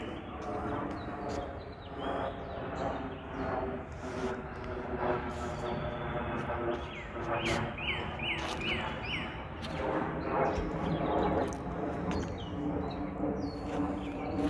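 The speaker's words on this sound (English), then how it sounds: "the sound of the bird chirping is so soothing" Birds chirp in short scattered tweets around a lake on a sunny day, mixed with faint outdoor background rumble while a person talks now and then.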